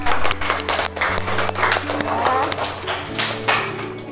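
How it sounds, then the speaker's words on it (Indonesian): Children in a classroom clapping for a classmate's successful science experiment, a quick run of loud, uneven hand claps mixed with an adult voice talking over them. "Tepuk tangan tuh anak-anak ya"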